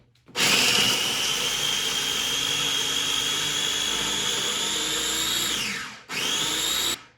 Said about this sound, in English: get the lid on and we can start blending